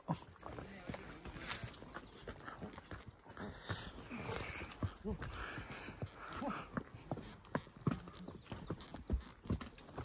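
Horse hooves clip-clop in a steady, close walking rhythm on a trail around Rara, with people talking and moving nearby throughout.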